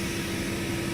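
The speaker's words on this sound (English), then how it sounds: "We're going to turn off the engine" Turbine whine and rushing drone of a UH-60M Black Hawk helicopter engine in X-Plane 12 as it is shut down, a steady dense hum without talk over it.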